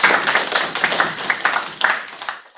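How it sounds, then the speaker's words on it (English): A class audience at a supply chain session gives a short round of applause, a close, brisk patter of claps from a small group that fades out at the end. "Let's give them a round of applause."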